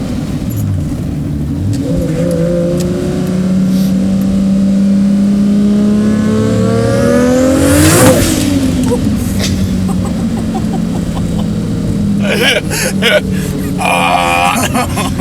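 A 750 hp Toyota Supra with a big-turbo 3-litre 2JZ engine accelerates hard on a mountain road, its loud exhaust note rising and falling through the gears, with a sharp shift and turbo whoosh midway and faint voices underneath.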